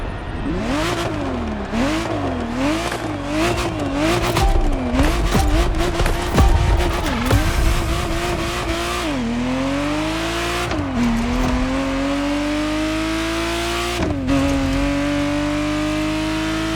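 A Ferrari Testarossa in the racing game The Crew Motorfest revs hard and climbs through gears, its engine note rising and dropping with each shift, loud and close, with occasional tire noise and no talk.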